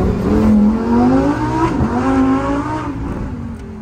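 Lamborghini Huracan Evo engine note climbing as the car speeds up, then dropping sharply as it brakes hard and the revs fall, loud and close from onboard.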